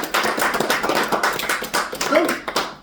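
A church congregation claps and applauds in a dense burst of handclaps lasting a few seconds, with voices mixed in.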